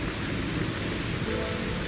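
Heavy rain in the video game Zenless Zone Zero, a loud, steady downpour with a low rumbling undertone like distant thunder, continuous and without any speech.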